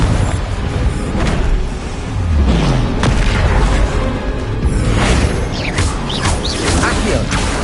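Confringo blasting spell cast in the Hogwarts Legacy game on PS5, a series of loud booming fiery blasts with crackling bursts over continuous game sound effects.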